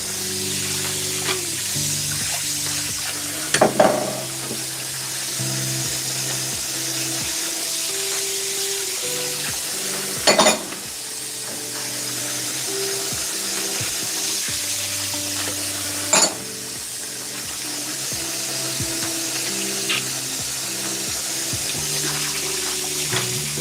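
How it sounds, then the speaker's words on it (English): Rings are scrubbed clean in hot water in a kitchen, a long steady wet swishing and rubbing, close up, with squeaky tonal scrapes and a few louder knocks scattered through it, and no talk. "Alright, let's clean these rings."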